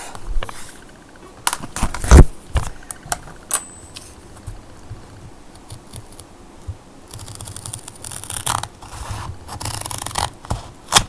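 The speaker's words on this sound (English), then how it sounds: "I will just take a pair of scissors and cut my grid off." Scissors snip around the edge of a grid layer set on a cork board backing, giving close, scratchy cutting and rubbing sounds in irregular bursts with louder clicks and scrapes, and no voices.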